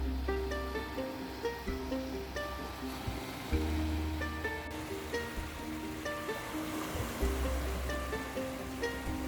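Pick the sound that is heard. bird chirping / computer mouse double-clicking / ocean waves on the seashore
ocean waves on the seashore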